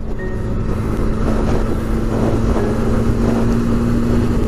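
A motorcycle engine idles and hums nearby, a continuous low drone with a constant pitch and no speech.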